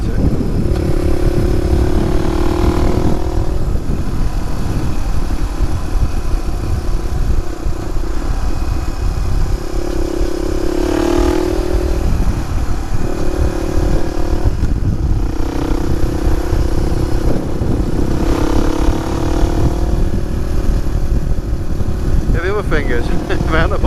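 A motorcycle engine revs and idles close by with a throaty exhaust note that rises and falls in several bursts.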